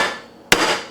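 A single sharp hammer strike knocks a bearing into a DLE 55 RC gas engine during assembly, one close metallic tap following quiet room tone, no talking.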